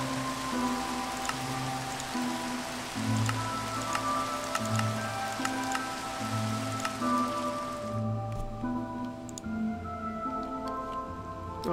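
Steady rain patters in Minecraft, a dense hiss of drops with scattered ticks over low blocky game tones, then cuts off abruptly toward the end, leaving quieter ambient sound.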